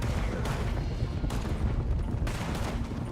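Shotgun fire in Red Dead Redemption 2, a dense barrage of booming blasts and rumbling gunfire, loud and continuous, with a few sharper shots standing out.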